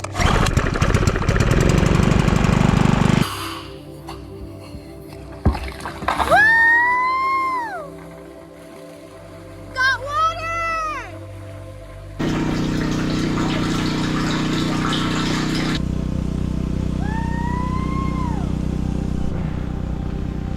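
A gas-powered water pump starts and runs with a loud, steady engine drone while pumping water from a restored natural spring, broken by brief pauses and tonal whines, close and dominant, with no speech.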